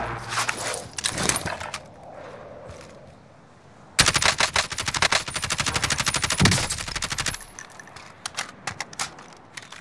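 Gunfire in Call of Duty: Modern Warfare comes in loud, rapid automatic bursts, with an opening volley and then a long, sustained rattle of shots close by.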